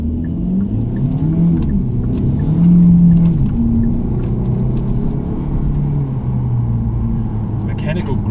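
Hyundai i30 N Line sedan with 1.6-litre turbo engine and seven-speed DCT accelerating, a steady low engine drone rising and easing under continuous talk inside the cabin.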